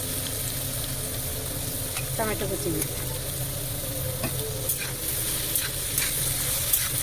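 Chilli powder and salt are stirred into oil in a frying pan, with a steady close sizzle, a few scattered spatula scrapes and a faint voice in the background.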